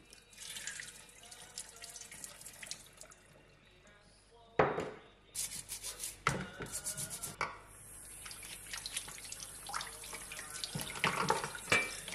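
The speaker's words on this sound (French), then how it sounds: "je les rince et je vais les faire tremper quand même un petit peu" Tap water runs over legumes being rinsed in a kitchen sink, a faint, intermittent splashing and trickling that swells in louder bursts partway through.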